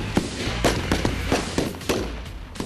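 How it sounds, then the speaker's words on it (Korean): Repeated sharp rifle gunshots crack in an irregular series at an army recruit training firing range, about eight in under three seconds, with echoing reports trailing each one. "실제 총소리에 긴장감이 더해지는 대기자들"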